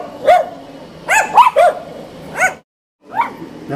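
A small dog barks fiercely in close, sharp yaps, first in quick clusters, then a short silence and one more bark.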